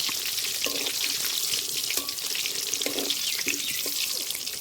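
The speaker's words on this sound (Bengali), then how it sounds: "এবার আলুগুলো ভালো করে ভেজে নেব" Steady hissing sizzle of potatoes with salt and turmeric frying in oil, with occasional scraping clicks from stirring, close up and continuous with no talking.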